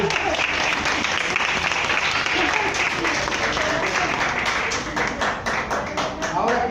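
An audience applauds steadily for several seconds, a dense crowd of clapping that swells, thins slightly and picks up again near the end, with a speaking voice faintly audible underneath.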